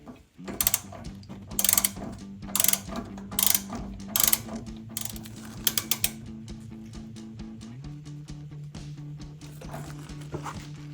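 A torque wrench ratchets on a 2015-2023 Mustang EcoBoost rear brake caliper bolt, giving bursts of rapid clicking followed by several sharp clicks, close up over a steady low motor-like hum.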